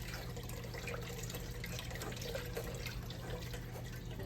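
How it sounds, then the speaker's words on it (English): Braising liquid from slow-braised beef short ribs is strained through, giving a steady, quiet liquid rush and trickle with faint drips, no talking. "We're going to strain all that liquid in there."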